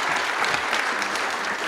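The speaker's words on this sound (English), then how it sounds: "Give another round of applause." Audience at a government testing showcase applauds a departing panel, a dense even wash of clapping from many hands, steady and moderately loud from start to finish.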